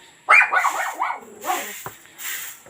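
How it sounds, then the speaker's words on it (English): Pomeranian dogs yap in quick, high-pitched bursts at a house in the mountains. The barking is close and loud, with a sharp opening volley, several short yips after it and a few softer whimpers between them. "it was made for the Pomeranian dogs, which you can hear yapping as small dogs do"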